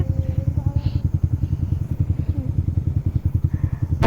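Motorcycle engine running steadily throughout with a rapid rhythmic pulsing thump, close and loud, heard on a long ride.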